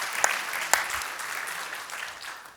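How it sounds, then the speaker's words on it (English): Applause follows a speech on the future of terrorism. A short burst of audience clapping with a couple of sharp claps near the start fades through the clip at a moderate distance. "Let's give him another round of applause."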